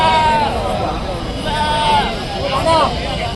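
Goats and sheep at a busy weekly village livestock market bleat repeatedly and loudly, several calls overlapping, over a constant crowd babble of voices.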